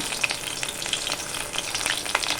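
Jute leaf fritters in batter fry in hot oil, a steady close crackling sizzle with sharp pops and spits throughout, no voices.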